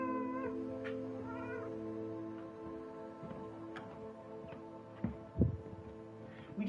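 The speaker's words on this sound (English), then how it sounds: "this is my mom's cat" A tortoiseshell house cat meows several times near the start, close and fairly clear, followed by quieter rustling and a few soft thumps.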